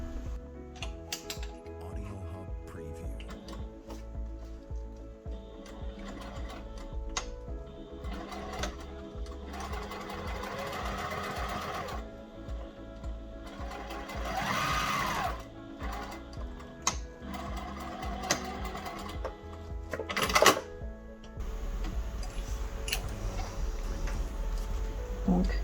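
A Juki TL 2200QVP Mini sewing machine stitches through layered thick denim and faux leather, running steadily with a dense mechanical whir and brief louder bursts, close and continuous with no talking.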